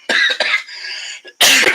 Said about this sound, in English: You know, coughing happens